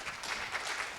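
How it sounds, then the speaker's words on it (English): Brief, faint applause from a conference audience at a university longevity lecture, a soft patter of clapping hands from across the room. "Wow, applause for a question."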